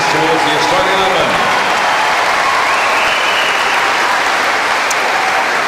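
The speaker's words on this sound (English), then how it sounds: "Let's give Alexandr Dolgopolov a round of applause too for his efforts before he leaves centre court." A crowd applauds on centre court after a men's second-round match at the Brisbane International tennis tournament, a loud, dense and continuous wash of clapping throughout, with a voice speaking over it at the start.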